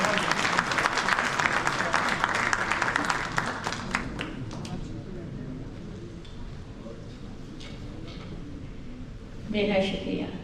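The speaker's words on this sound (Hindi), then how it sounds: "तालियों में इस्तकबाल कीजिए नैना आदिल का" Applause from an Urdu mushaira audience welcoming a poet, dense and loud for about five seconds, then thinning to scattered claps and crowd murmur, with a short burst of clapping near the end.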